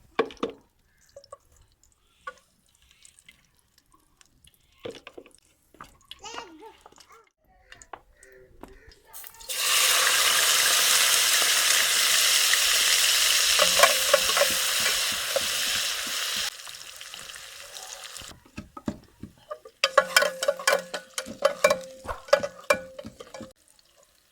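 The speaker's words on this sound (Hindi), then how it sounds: "घी गर्म होने के बाद प्याज शामिल करके ब्राउन करेंगे।" Onions browning in hot ghee in a kadai give a loud, steady sizzle lasting about seven seconds, followed by scattered clattering bursts of stirring.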